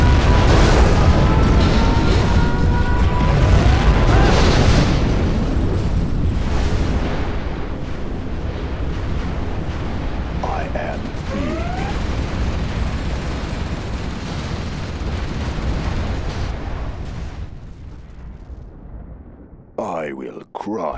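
Nuclear missile detonation in the strategy game Command & Conquer Generals Zero Hour, a loud sustained rumbling blast that slowly fades over about twenty seconds, with game voice lines heard alongside.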